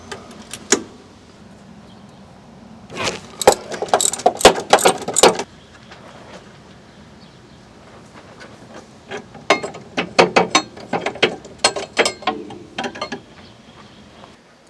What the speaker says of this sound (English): We can install some locking pliers on the back side of our bolt and a 14mm socket on the front.